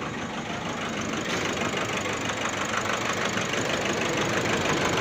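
A Nissan Navara Ddti diesel engine runs unevenly just after starting, a steady, close, loud clatter with a rough, knocking texture and no voices.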